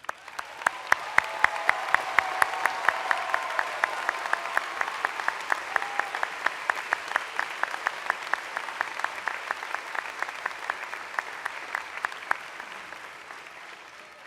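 A commencement crowd at Berea College applauds the standing faculty, with sustained, moderately loud clapping that holds steady for about fourteen seconds while a few sharp individual claps stand out.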